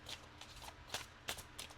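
A deck of tarot cards being riffled and tapped in short bursts, several quick shuffles in a row, close and fairly quiet.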